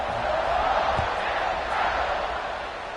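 A stadium crowd roars at a college football kickoff between Kent State and Ole Miss, a dense, steady wash of cheering that stays loud throughout and eases slightly toward the end.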